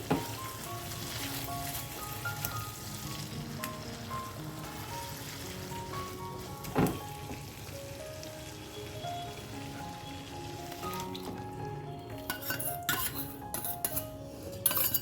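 A yogurt mixture cooks in a wok over low flame with a soft, faint sizzle and bubbling under a quiet musical background, with occasional light clinks and scrapes of stirring near the end.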